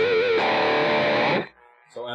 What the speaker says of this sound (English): Let's hear with the tube screamer. So I'll just chug away.